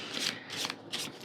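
Oracle cards being shuffled, close soft rustling and riffling in a few short bursts, with no talking.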